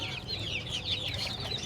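Native chicken chicks, about two months old, on a rooftop bird farm, chirping and clucking in a steady, busy flock chatter that sits close and continuous with no voices.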